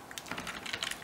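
Rapid keystrokes on a computer keyboard as a file path is typed on a Windows 98 setup, giving a close, quiet burst of irregular clicks with no voice over them.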